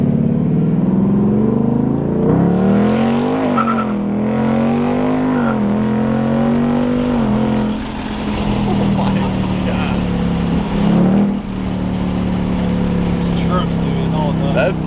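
A 2026 Ford Mustang GT Premium engine is revved by remote start, a loud, steady rumble that swells and eases in pitch over several seconds while people talk over it nearby.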